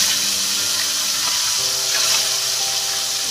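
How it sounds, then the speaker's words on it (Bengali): Snakehead fish pieces frying in hot oil over medium heat, a steady, dense hiss and crackle that stays loud and even throughout with no voices. "এরপরে আমি মাছগুলো এক করে ছেড়ে দিলাম, আর সব মাছ আমি এবার ভেজে নেব।"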